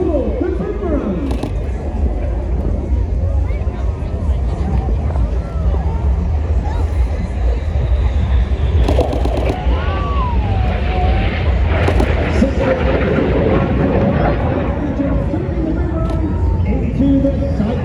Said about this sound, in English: Each aircraft roll the correct way up as they complete the manoeuvre called the boomerang